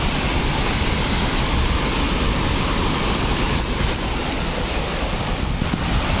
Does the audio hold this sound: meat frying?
no